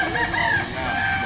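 Chickens cluck and a rooster crows at an outdoor poultry market behind SM City Lipa in Batangas, with steady crowd murmur underneath the birds.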